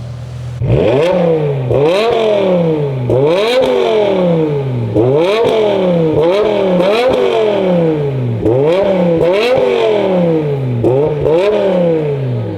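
A BMW M5 with a V10 engine and carbon fiber exhaust tips revs hard repeatedly, loud close blips that climb steeply and fall back about every one and a half seconds, with a rasping exhaust note and no talking.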